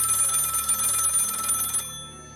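A telephone rings in Vampire: The Masquerade - Bloodlines, a steady electronic ring pulsing loudly for nearly two seconds before cutting off abruptly, leaving a faint tonal hum.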